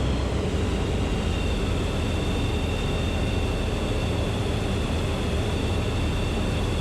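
Inside the cabin of a light aircraft on final approach to land at Kemble, a loud, constant engine drone and wind roar fill the whole stretch without a break, and no one speaks.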